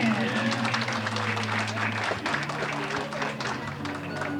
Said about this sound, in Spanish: Un aplauso más, que se escuche.